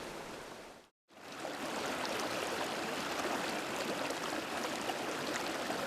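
River stream water rushes steadily while a net is run through it during insect sampling over stones, a continuous broadband flowing hiss, briefly cut off near the start and then resuming evenly.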